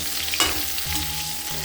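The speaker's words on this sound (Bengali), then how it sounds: "তারপরে এখন সেগুলো একটু ডিপ ফ্রাই করে নিচ্ছি।" Potatoes deep frying in a pan of hot oil give a steady crackling sizzle with a brief utensil clink near the start and low bubbling throughout, heard close with no talk.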